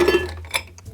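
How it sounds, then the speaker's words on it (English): A couple of ice cubes drop into a 10-ounce rocks glass, giving a few quick bright clinks close by, the first loudest and the rest fading out. "We're just going to add a couple of cubes."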